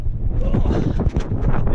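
Strong wind blows outdoors against a tarp being secured, producing loud, gusty low-pitched buffeting and rumble that stays constant throughout.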